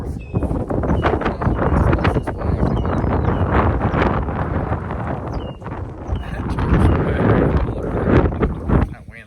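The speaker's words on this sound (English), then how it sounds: "That wind. Of course, it just picked up as soon as I walked out." Gusty wind blows across the microphone outdoors at a carport under construction, a loud, continuous rumble that swells and dips throughout, with someone talking over it.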